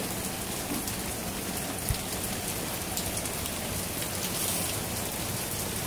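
Steady rain pours down during Hurricane Harvey, a dense continuous hiss of drops hitting surfaces close by, with no voices and only a small thump partway through.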